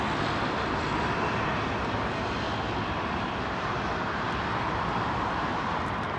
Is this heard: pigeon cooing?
no